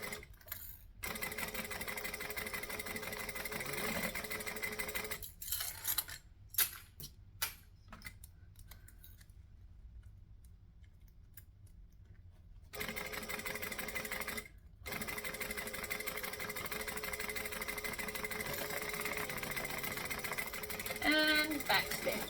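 Sewing machine stitching and back stitching on a travel bag, running in several bursts of steady rapid ticking with short pauses between and a long silent gap midway.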